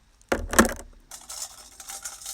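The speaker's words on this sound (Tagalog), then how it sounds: "Ito yung tunog ng iyong mga bracelet." Small bracelets clink and rattle during cleansing, a couple of sharp close metallic taps followed by softer, scattered jingling; no talk.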